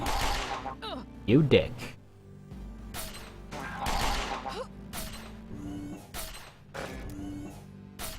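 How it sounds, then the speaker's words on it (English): In a video game, a dart gun fires at a robot in several sharp shots, with impact and crash effects among them, while someone talks over the action. "I'm shooting a robot with a dart gun"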